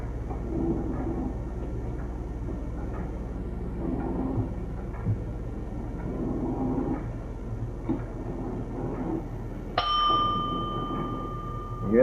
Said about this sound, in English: You hear the bell ding then?